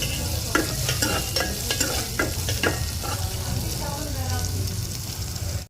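Onions fry in a pan with a steady, close sizzle, and repeated scraping strokes from stirring sound throughout.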